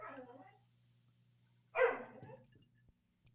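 A dog at home barks twice, first moderately loud, then a louder sharp bark about two seconds later, close to the microphone in a quiet room, with a low steady hum underneath.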